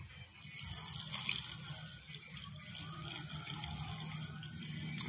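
Warm water poured by hand over leaves in a container while making cincau, a steady splashing trickle running close by for several seconds with no voices.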